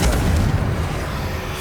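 A Confringo blasting spell explodes in Hogwarts Legacy on PS5, a loud, close, booming blast that fills the clip and rumbles on without a break.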